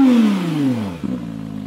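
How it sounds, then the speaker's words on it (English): A Porsche GT3 RS engine, cold, revs high and then falls away, its pitch sliding downward, and drops into a steady, lumpy idle with a brief clatter. "But yeah, that's the sound of his car."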